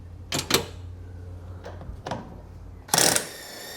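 An impact wrench loosening the upper strut bolt on a Toyota A90 Supra fires in short clattering bursts, with a few brief hits and then a louder, denser half-second rattle near the end.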